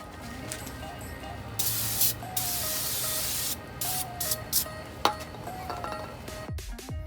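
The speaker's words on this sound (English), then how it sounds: "get some brake cleaner and a brush and just go ahead and clean off the brake caliper" Aerosol brake cleaner sprays onto a brake caliper in several bursts of hissing mist, loud and close, with short pauses and faint clinks between them.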